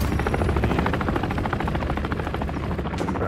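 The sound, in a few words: enemy helicopter in video game Modern Warfare 3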